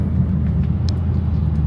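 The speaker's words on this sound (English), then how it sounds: "I'm in the car right now, as you guys can tell" Cabin of a BMW F10 M5 carries a steady low engine and road rumble, constant and close, with a faint brief tick partway through and no talking.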